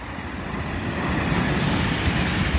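A very fast Virgin Trains Pendolino passing through Watford Junction on the West Coast Main Line, a steady, loud rushing roar that swells slightly, with no voices.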